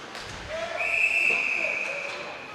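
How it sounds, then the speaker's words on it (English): Referee's whistle at a junior ice hockey game in the arena, one sustained shrill blast of about a second and a half over crowd murmur and rink ambience. "Whistle goes 34 seconds into the first period of play."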